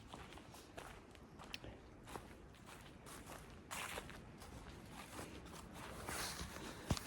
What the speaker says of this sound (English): Can you hear my footsteps?